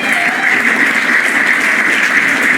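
A live audience gives dense, steady applause for a group of musicians at a small show, loud and close throughout with no break.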